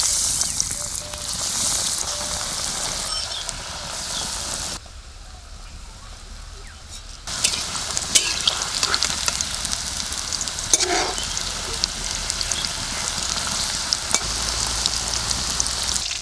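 Chicken snacks fry in oil over a low flame with a dense, close sizzle and crackle that pauses briefly and then resumes at full strength. A stirring utensil scrapes now and then.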